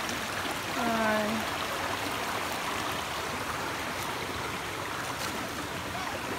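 A stream flows through a coastal spot among coconut palms, a steady, fairly close broadband rush that continues unchanged throughout, with a brief tonal call near the start.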